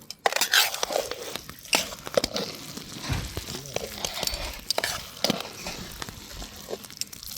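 Papad batter made from ration rice, mixed with chopped curry leaves, is stirred in a pot: close, irregular scraping and wet sloshing strokes with no talk.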